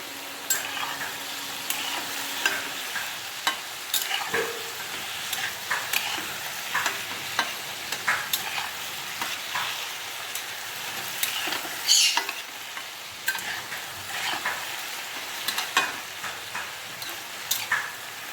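Ridge gourd with turmeric and green chilies sizzles steadily in a pan, a constant close frying hiss with occasional stirring scrapes throughout.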